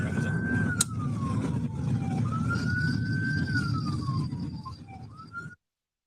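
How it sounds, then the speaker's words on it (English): A police car siren wails in slow rising and falling sweeps during an emergency run to a shooting scene, steady and fairly close over a constant low road rumble, then cutting off abruptly. "My lights and siren were activated"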